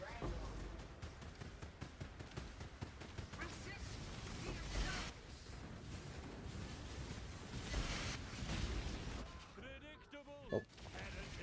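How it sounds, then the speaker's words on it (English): Rapid, dense bursts of game explosions and combat effects from Path of Exile fill the mix, a steady loud barrage with a louder crash near the end, and a voice speaks over the noise. "Too many explosions again."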